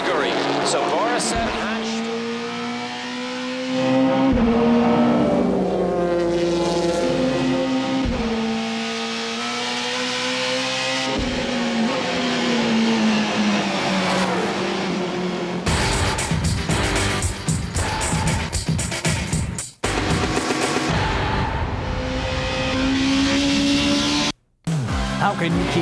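Race cars roar past at the 2001 Grand Prix of Mid-Ohio, a sports car event, with engines revving and shifting and cars passing repeatedly, loud and close, under an announcer's commentary.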